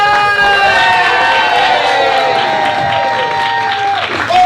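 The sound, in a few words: audience applause and cheering for game show host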